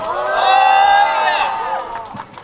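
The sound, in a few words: applause and cheering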